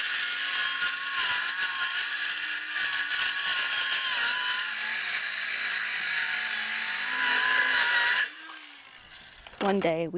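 A power saw whines steadily while cutting straight through plywood guided by another plywood piece at an off-grid self-built cabin, the tone wavering under load before the blade stops and a voice speaks briefly.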